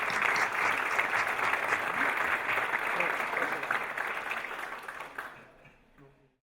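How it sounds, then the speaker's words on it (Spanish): An audience at a memorial tribute gives sustained applause, a thick wash of clapping that fades gradually and ends in silence. "Yo pido un aplauso anticipado para don Adolfo Castañón."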